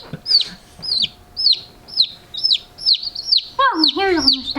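Baby chicks cheeping: a rapid series of bright, high peeping calls, close and fairly loud, about one every half second, with several chicks overlapping near the end.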